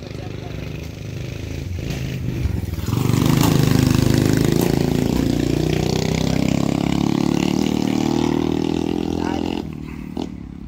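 A small motorbike-like vehicle engine revs up and holds a loud, steady roar with rising pitch for several seconds before cutting off, heard up close.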